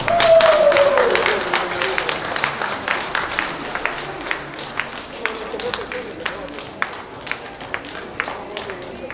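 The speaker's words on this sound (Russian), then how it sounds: "Аплодисменты нашим этим красавцам." Applause crowns the winners in the trimmed-breeds category at a dog grooming awards ceremony: dense, steady clapping from a sizeable crowd fills the room, strongest at the start and gradually thinning, with a voice briefly audible at the opening.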